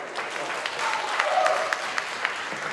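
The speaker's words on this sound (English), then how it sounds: "Round of applause, please." Brief burst of applause from the audience at a Glasgow science slam, dense clapping with a few sharper claps standing out, fading as it goes.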